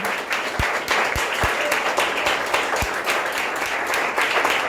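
A church congregation applauds together during a worship service, producing a dense, steady wash of clapping that fills the room for several seconds, with a few louder thumps standing out and no clear voices.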